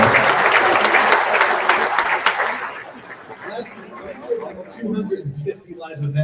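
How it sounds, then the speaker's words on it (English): Theater audience applauding warmly for event sponsors, a dense continuous clapping wash that tapers off after a few seconds into scattered claps and murmuring crowd chatter. "How about a nice round of applause for our sponsors tonight?"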